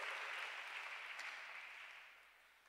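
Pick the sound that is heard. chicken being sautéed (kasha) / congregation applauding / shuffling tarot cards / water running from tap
congregation applauding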